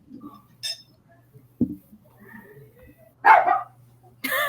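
A recording of a dog barking plays back in a few short, separated barks, with faint clinks and people chatting quietly in the room between them.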